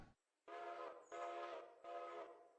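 Steam-era locomotive whistle in the Railroader simulation game sounding three separate blasts in quick succession, each about half a second long, loud and clear with nothing else heard.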